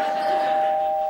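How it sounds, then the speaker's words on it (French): A custom doorbell rings with one sustained, bright electronic tone that holds steady and clear from start to end, close and fairly loud. "la sonnette de porte personnalisée à cette heure."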